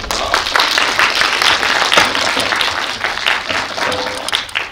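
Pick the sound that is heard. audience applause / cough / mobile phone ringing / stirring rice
audience applause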